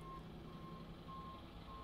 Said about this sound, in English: straight beeps and sirens